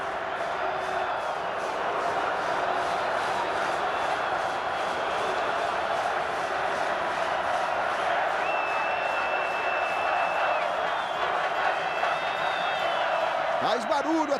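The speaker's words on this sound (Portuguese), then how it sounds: "Faz barulho a torcida rubro-negra." Flamengo supporters fill a football stadium in a 2010 Brazilian league match against Cruzeiro, a steady roaring crowd din with whistles and chants, loud and continuous beneath a commentator's voice.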